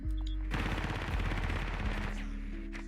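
Video game gunfire in a bomb-defusal match: a rapid automatic burst of shots, loud and close, running almost without pause for a few seconds.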